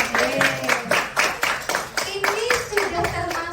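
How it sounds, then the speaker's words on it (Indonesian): A fifth-grade class in an Indonesian Islamic religion lesson claps in quick, rhythmic bursts, the patterned applause repeating steadily and close by with voices mixed in. "Tepuk tangan buat kelas 5"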